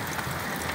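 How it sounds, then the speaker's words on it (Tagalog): Steady rain falling outdoors at a roadside mechanic's spot during an old-fashioned wheel alignment, a dense even hiss of drops with no voices. "umuulan po kasi rito eh"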